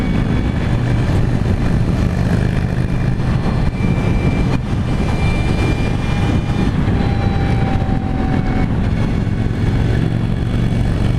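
A 2016 Victory Empulse TT electric motorcycle cruising at 70 mph, heard as a loud, steady rush of wind and road roar with faint whining motor tones rising in pitch, continuous throughout with no voice.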